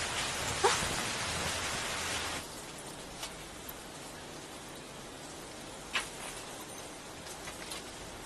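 Monsoon rain falls as a steady, dense hiss, heavier for the first couple of seconds and then settling to a softer, even wash, with a few faint drip-like clicks scattered through it and no voices.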